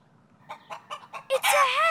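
Cartoon hen for a farm-animal game, four short evenly spaced clucks followed by a louder, drawn-out squawk that bends in pitch, crisp and close against a quiet background.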